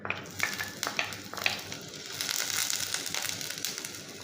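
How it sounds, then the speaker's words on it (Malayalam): Chopped onion, garlic, ginger and green chili hit hot coconut oil for a sardine curry, giving a bright crackling sizzle with a few sharp spatters and clinks early on, then a steady close frying hiss. "ഇതിലേക്ക് നമുക്ക് അരിഞ്ഞു വെച്ചിരിക്കുന്ന ഉള്ളി, വെളുത്തുള്ളി, ഇഞ്ചി, പച്ചമുളക് ഇതൊക്കെ ഇട്ട് കൊടുക്കാം."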